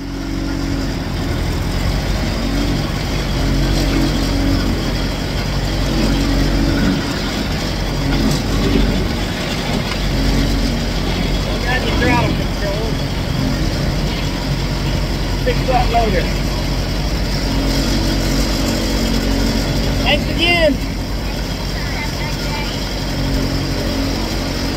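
A 1954 Ford Jubilee tractor engine drives down a road, a steady low rumble that runs for the whole stretch at close range, with a few brief higher squeaks and rattles rising now and then above it.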